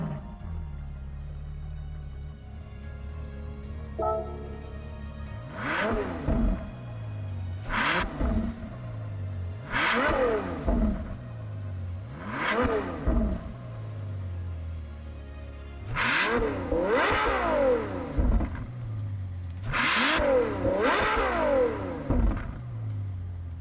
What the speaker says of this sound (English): Now on to the next car, which is the 812 Superfast.